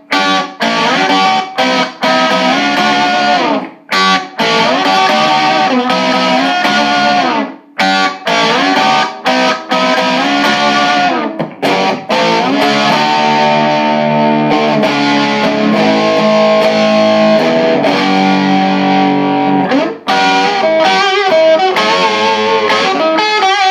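Electric guitar played through an EHX Soul Food overdrive pedal with the gain turned up into heavy classic-rock distortion, loud and continuous with sustained chords and riffs separated by brief pauses.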